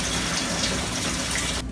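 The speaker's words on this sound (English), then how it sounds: "So I'm gonna fill my sink just as low as I can go" Hot water runs from a tap into a sink in a continuous, close, steady gushing rush that stops abruptly at the end.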